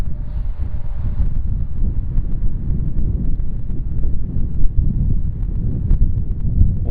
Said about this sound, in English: Wind is very strong over here.